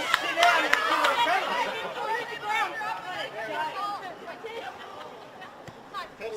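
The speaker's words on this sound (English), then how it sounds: "So the home crowd very vocal here" A vocal home crowd at a women's NPL football match between Peninsula Power and Lions FC chatters and calls out at moderate distance, a steady hubbub of voices under and around close commentary.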